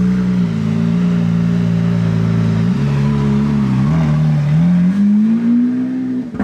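A gold-rimmed sports car revs loudly nearby, a deep steady engine note that shifts pitch several times and climbs toward the end, with no talk.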